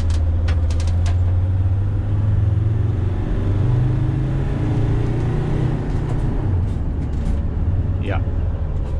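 Inside a 2006 Dodge Sprinter van with an OM647 diesel running low boost, the engine drones in a deep, steady rumble as the van gains speed sluggishly, with road noise throughout and someone talking over it.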